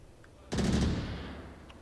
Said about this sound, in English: More gunshots